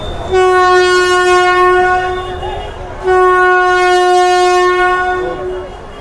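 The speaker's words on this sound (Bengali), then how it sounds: "এটা হচ্ছে লঞ্চের হুইসেল" A passenger launch whistle at Sadarghat launch terminal, Dhaka, sounds two long, loud, steady blasts, one after the other with a brief gap, close by.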